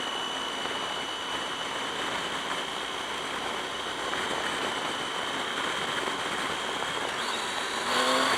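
Triumph Tiger 800 XCx motorcycle engine pulling hard in second gear, a steady loud drone mixed with wind rush while riding, rising slightly in pitch near the end.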